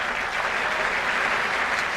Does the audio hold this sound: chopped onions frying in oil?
no